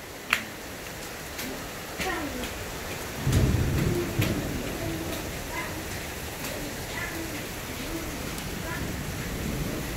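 Heavy rain pours steadily during a hailstorm in a mountain village in northwest Vietnam, with a low rumble of thunder partway through, a sharp snap at the start, and people talking under the downpour.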